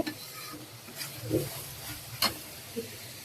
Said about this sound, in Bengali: তো এই যে কলিজা ভুনা প্রায় হয়ে গেছে।